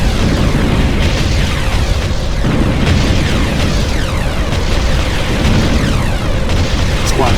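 Gunfire and explosions in the strategy video game Ground Control, a dense, unbroken roar of blasts and bursts that stays loud for the whole stretch.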